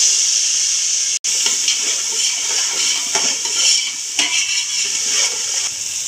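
Onions sauté in a pan for fish biryani. A broad, loud hiss runs throughout with faint irregular stirring, and there is one brief dropout near the start.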